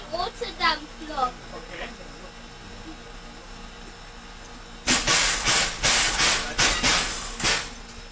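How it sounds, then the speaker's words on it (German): A red steam locomotive on the Hespertal heritage railway: voices are heard at first, then loud, rhythmic bursts of steam hiss and chuffing take over, close by. "Das ist die rote Dampflok."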